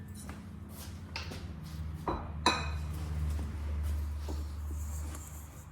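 Bread dough for black olive bread being mixed in a bowl, with steady clinks and scrapes of a utensil against the bowl and a low hum underneath.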